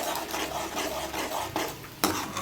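Chicken frying in oil with green chillies for a gravy, a steady broadband crackle with stirring scrapes and a sharp clatter near the end.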